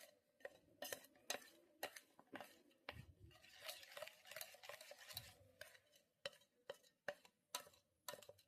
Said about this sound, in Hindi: इसी में हमने सारी चीज़ों को प्रॉपर मिक्स कर लिया।